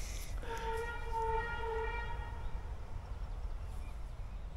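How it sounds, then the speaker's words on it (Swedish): A train arriving at a station, with a sustained multi-tone horn sounding for about two seconds over steady low rumble and rolling noise, moderately near and loud. "Jaha, kom tåget."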